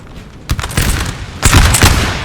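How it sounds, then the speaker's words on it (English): Volleys of musket fire from Austrian troops in a Napoleonic battle game, two loud crackling fusillades of many overlapping shots, the first ragged and sustained, the second denser and heavier, with no talk. "shots from the Austrians on the way there"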